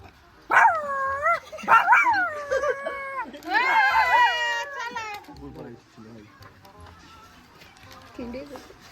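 A person vocally imitates a dog barking during a family animal-sounds guessing game, giving several loud, close yelping barks in bursts, followed by a longer wavering howl-like call and a brief quieter vocal at the end.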